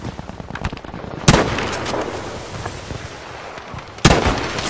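Two sharp, loud gunshot blasts ring out in a boat combat video game, with scattered quieter pops and rumbling battle noise between them.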